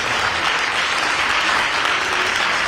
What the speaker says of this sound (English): That's a good place to clap right there.